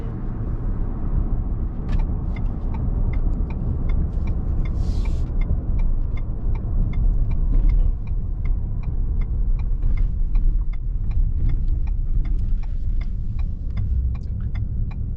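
A 2021 Ford F-150 Hybrid pickup, a full body-on-frame truck, drives with a steady loud low road rumble and engine drone, and a regular light ticking runs through the cabin.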